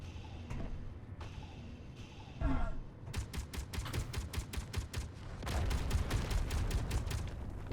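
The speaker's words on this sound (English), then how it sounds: "It's a meteor storm." Meteor storm striking the ground in the Space Engineers survival game: a rapid barrage of sharp cracking impacts over a low rumbling bed, clustered in bursts and loud throughout.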